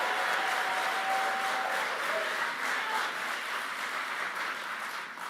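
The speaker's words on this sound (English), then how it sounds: "I said only applaud once, and there's a guy up here. He applauded at least twice." Steady applause from a political rally audience in North Carolina, sustained and fairly loud throughout, with a broad, even texture and no clear breaks.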